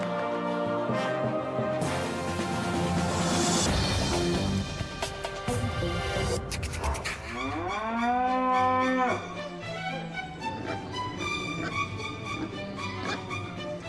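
Cattle mooing on a farm in Curdridge, Hampshire, home to about 300 cows; several loud, drawn-out moos overlap one another and carry steadily across the whole stretch with no talk.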